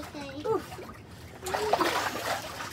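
Water splashes and drips as an adult and a child climb out of a cold plunge ice bath tub, with the sloshing mixed under their talking voices.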